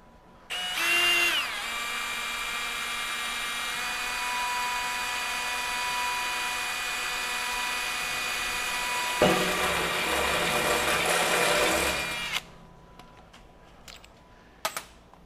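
A Hercules cobalt step drill bit cuts through sheet metal in a steady, loud, continuous drilling whine that runs about eleven seconds, pitch shifting partway through, then stops abruptly, followed by a few faint clicks.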